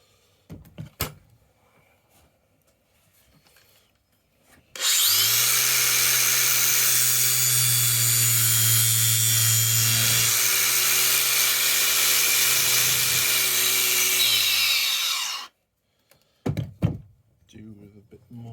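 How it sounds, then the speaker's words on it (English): A Renault Megane 3 RS 275 brake line fitting is ground down with a power grinder, a loud steady whine lasting about ten seconds that starts and cuts off abruptly, with quieter workshop handling noises before and after. "I'll grind that off."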